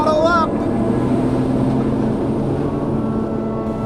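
A ski-plane's engine in Antarctica throttles up for takeoff, a loud, steady drone with sustained low harmonics that fills the whole clip, while a voice briefly speaks at the start.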